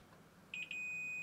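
A multimeter's continuity buzzer sounds while probing diode pairs on an Xbox Series X circuit board: three quick high beeps, then one steady sustained tone, close and clear over quiet room hiss.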